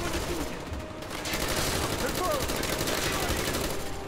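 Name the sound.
gunfire shooting through cover in the video game Call of Duty Black Ops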